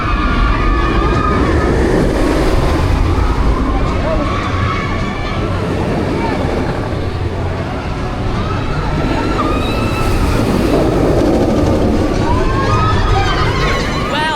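The Incredible Hulk roller coaster at Universal Orlando, a steady loud roar of rushing wind and track noise with faint screams rising through it, continuous for the whole stretch.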